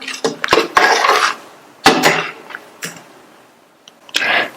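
A spoon scraping and clanking against a metal pot while stirring soya bean gravy with chopped coriander leaves, several loud close scrapes and knocks in bursts with short pauses.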